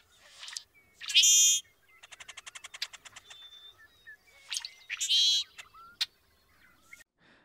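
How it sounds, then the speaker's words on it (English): A Brewer's blackbird on Vancouver Island gives sharp, high chirps and a rapid buzzy run of clicking notes, then more squeaky calls against quiet surroundings, near and clear. "Brewer's blackbirds are common and widespread on Vancouver Island."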